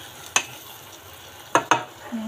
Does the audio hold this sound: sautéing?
yes